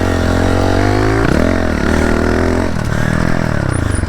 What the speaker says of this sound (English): My bike is stalling.